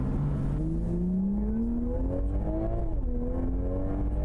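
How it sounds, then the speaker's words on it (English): A Toyota Supra engine in the Gran Turismo 7 racing game revs steadily upward in pitch, dips briefly as it shifts gear, then climbs again, loud and continuous. "I want you to listen to the engine noise in GT7."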